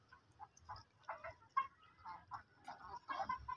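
Hens in a poultry shed give soft, scattered clucks and short calls at close range, quiet and irregular against a faint background.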